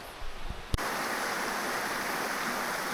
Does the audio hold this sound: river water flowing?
yes